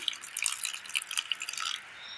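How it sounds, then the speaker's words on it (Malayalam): Water is poured into a mixer grinder jar holding soaked rice, making a short, light trickle of splashes and drips that fades out after about two seconds. "ഇതിലേക്ക് ഒരൽപ്പം വെള്ളം കൂടി ഒഴിച്ചു കൊടുക്കാം."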